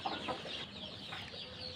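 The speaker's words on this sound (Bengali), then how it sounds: "মুরগিকে খাবারটা খিচুড়িটা দিয়ে দিই" Chickens cluck softly and briefly at a rooftop feeding spot as they are given khichuri, faint and low against steady background noise.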